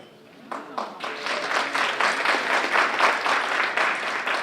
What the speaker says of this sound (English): I thought I might get some applause.